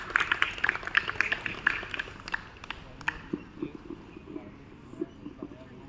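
Audience applause at a Hindi-language gathering, a burst of scattered claps up close that gradually thins and fades, with faint voices murmuring underneath.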